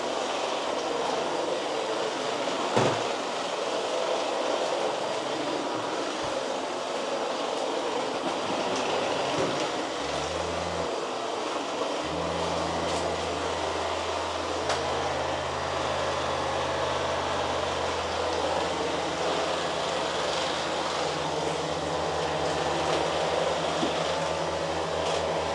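A Kobold vacuum cleaner cleaning a floor, its motor a loud, steady whoosh throughout with a low hum that shifts pitch, and no talking.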